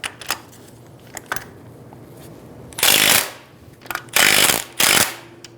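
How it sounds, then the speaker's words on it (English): A 17mm socket loosens the top strut nut on a 2010-2014 Subaru Outback, producing short bursts of loud ratcheting and tool noise, three long spells separated by faint clicks and brief pauses, close and alone. "Using a 17mm socket, we're going to loosen the nut on the top of the strut"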